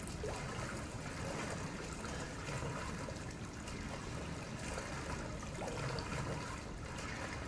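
Water draining away in the Resident Evil 7 survival horror game, a steady trickling, gurgling wash of liquid that runs continuously at moderate level with no talk over it.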